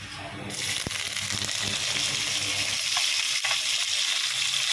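Chopped onion frying in hot oil for a white mutton gravy, with a steady broadband sizzle and faint stirring, and one sharp knock near the start.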